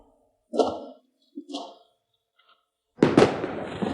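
Fireworks going off: a couple of faint crackling pops followed by a louder bursting explosion with a fizzing, crackling tail, with no talk.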